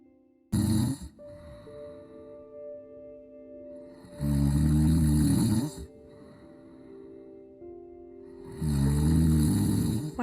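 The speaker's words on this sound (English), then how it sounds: "My husband would not stop snoring, and I had had enough." A husband snores loudly in three long, rumbling bursts spaced a few seconds apart, with quieter droning tones in the gaps, and no talking.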